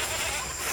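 A goat bleats on a homemade goat farm in Jamaica, a brief, fairly close bleat heard alone.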